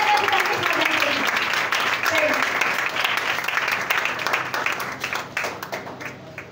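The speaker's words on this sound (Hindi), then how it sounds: "आज जोरदार तालियां बजाएं।" A church congregation bursts into loud, sustained applause at a Christian worship service, the dense clapping holding steady before tapering off toward the end.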